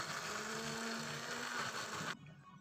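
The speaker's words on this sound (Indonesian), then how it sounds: "Dan kita blender lagi ebinya." An electric blender grinds dried shrimp (ebi) in a continuous loud whirring buzz that stops abruptly near the end, leaving a faint background.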